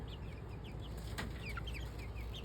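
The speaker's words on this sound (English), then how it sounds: "As you can see, we've got chicks on our homestead." Backyard chickens on an urban homestead, soft clucks and chirps scattered over a steady low background hum, with one brief sharper sound midway.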